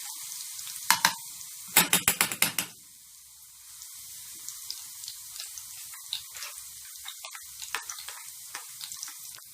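Garlic drops into hot oil and sizzles, opening with a burst of rapid loud crackling pops, then settling into a steady hiss with scattered spattering pops close by.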